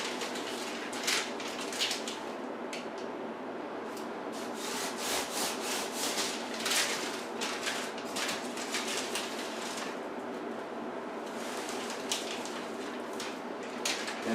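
Close rubbing and brushing of a water heater insulation wrap being pressed into place by hand, a steady scuffing texture with repeated soft strokes throughout.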